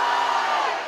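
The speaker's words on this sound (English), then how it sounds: "the crowd is fired up" Crowd cheering at a college softball stadium during an NCAA super regional game between Clemson and Texas, a loud, sustained roar of many voices filling the whole moment.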